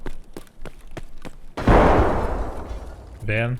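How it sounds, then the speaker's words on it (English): A sudden loud boom in the video game Escape From Tarkov bursts out after a few sharp taps, its rumble decaying over a couple of seconds before a short tonal blip. "Explosion."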